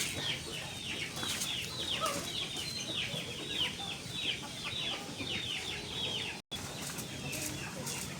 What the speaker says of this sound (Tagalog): pakita ko naman sa inyo yung mga roosters